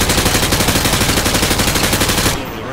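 Rapid automatic gunfire at a military weapons demonstration: a loud, close, unbroken stream of shots that cuts off abruptly near the end.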